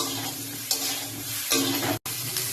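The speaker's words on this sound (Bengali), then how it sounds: "দেখো ফুলকপিগুলো এখানে আমার ভাজা হয়ে গেছে।" Cauliflower florets fry in hot oil in a pan for a Bengali fish and potato curry, a close, steady sizzle with stirring scrapes and one brief dropout near the end.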